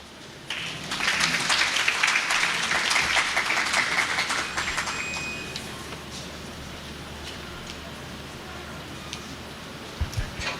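Audience applause at a public imbizo gathering swells in about half a second in, holds steady for several seconds, then thins to a scattered patter, with a couple of louder bumps near the end.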